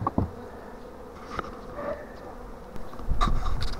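Honey bees from packages brought from Maykop buzz steadily and close while being moved into hives at an apiary in April, with a constant drone and a few soft knocks and handling clatters.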